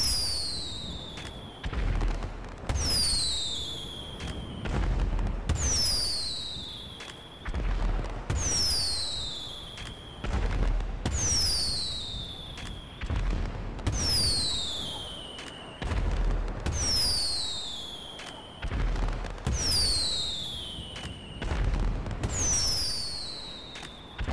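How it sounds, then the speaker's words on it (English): New Year fireworks go off in about nine evenly spaced bursts, each a descending whistle followed by a booming crackle, loud and repeating with no speech. "And now, to finish this video off, a couple of fireworks."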